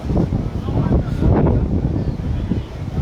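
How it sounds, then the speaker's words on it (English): Strong wind buffets the microphone at an outdoor ultimate frisbee pitch, producing a constant loud, rumbling roar that stays heavy throughout. "just highlights again just how windy it is here"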